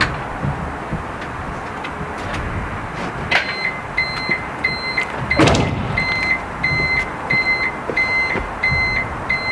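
Agricultural reversing beeper bulb giving a regular series of short, sharp beeps over steady engine rumble, with a brief louder knock midway.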